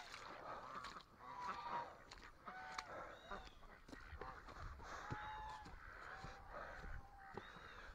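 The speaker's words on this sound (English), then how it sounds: "we got a lot of Canada geese here" A flock of Canada geese honks repeatedly at a moderate distance, overlapping calls scattered over a soft outdoor background.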